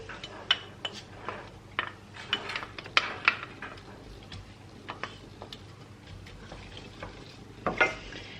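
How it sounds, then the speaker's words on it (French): Sliced onion goes into olive oil in a frying pan, giving a quiet sizzle broken by frequent sharp ticks, pops and utensil clicks against the pan. "On va venir donc dans une poêle verser de l'huile d'olive. On va venir également y mettre l'oignon émincé."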